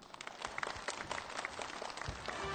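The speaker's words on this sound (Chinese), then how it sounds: "好，掌声有请詹先生。" Audience applause on a television studio stage, a short burst of brisk clapping from a crowd, moderately loud and continuous with no talk over it.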